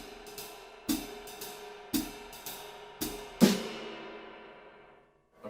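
A jazz drum kit plays a short two-bar phrase of crisp, evenly spaced hits, ending on a louder snare accent whose ring decays slowly into near silence; no talking.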